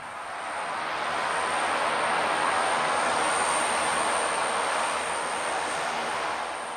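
A broad, steady roar of a light aircraft landing on a dirt airstrip passes close, rising and holding before easing slightly at the end.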